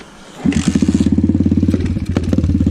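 A 2020 Apollo RFZ X-18 motorcycle with its stock carburetor cranks and catches, then settles into a loud, rhythmic chugging idle with a steady, uneven putter close by.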